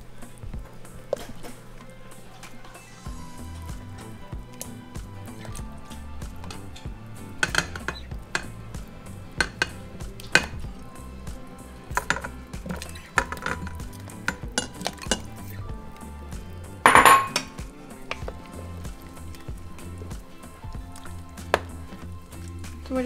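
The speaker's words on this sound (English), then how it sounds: "we're going to add our potatoes into our caldo" Potatoes go into a pot of traditional Mexican chicken soup, caldo de pollo, with close clinks, clatters and knocks of the pot and utensils scattered over a low kitchen background.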